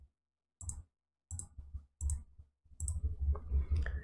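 A computer mouse button clicks repeatedly while someone works in the Notion app, giving a series of sharp, close clicks separated by short pauses that come more densely toward the end.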